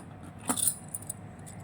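Glass raindrops bangles clink together in a single brief, bright jingle, then fall quiet against faint background noise.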